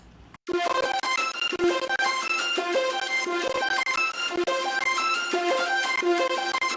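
A bright, buzzy processed Serum synth lead in an electronic track's drop plays a choppy rhythmic melody of short stabbed notes, loud and up front, starting after a brief gap.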